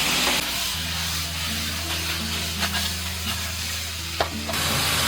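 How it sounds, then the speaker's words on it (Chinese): Hairy crabs dusted with cornstarch fry cut side down in a pan over medium-low heat, giving a steady close sizzle and oily crackle with faint occasional pops throughout, with no talking. "切口朝下，然后保持中小火煎。"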